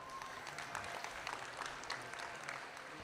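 Spectators at a state fair market hog show applaud a young exhibitor with a red gilt, a steady, even round of clapping from a crowd filling the arena.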